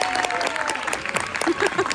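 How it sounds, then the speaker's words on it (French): Applause from a magic show audience for a partner named Laetitia, moderate and steady, mixed with voices and some crowd chatter over two seconds. "on voudra un tonnerre d'applaudissements pour une personne qui était notre partenaire"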